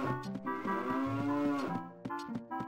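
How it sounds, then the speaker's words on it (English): Cattle in a stable in the video game The Legend of Zelda: Ocarina of Time give long, loud, drawn-out moos that overlap one another, with no talking over them. "Oh, cows."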